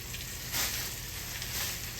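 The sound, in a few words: turkey tails frying in a skillet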